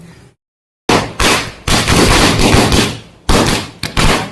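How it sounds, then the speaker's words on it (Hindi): Firecrackers burst outdoors in a loud, ragged series of sharp cracks and crackling pops, with a brief silence at the start and then overlapping bursts that fade and restart. "चलो चलते हैं, पटाखे फोड़ेंगे।"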